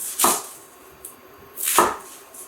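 Two crisp knife chops through half an onion on a cutting board in a home kitchen, spaced about a second and a half apart, close and fairly loud with quiet between.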